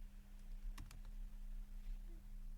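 Typing on a computer keyboard, a quick cluster of a few soft key clicks over a steady low electrical hum, quiet and close.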